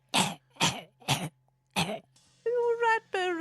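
A voice imitates a snail character coughing: four short, raspy coughs in quick succession, followed by a whiny, drawn-out vocal groan.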